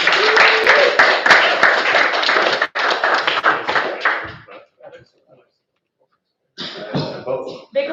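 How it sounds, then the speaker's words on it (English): Colleagues give dense, close applause during a weekly team meeting, steady for several seconds before thinning to scattered claps, a short silence, then another burst. "Big applause for Alex."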